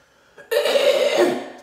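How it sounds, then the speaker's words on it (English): A person gives a deliberate demonstration cough: one harsh, close burst that starts abruptly and rasps for about a second before trailing off, with near silence before it. "You hear somebody cough around you."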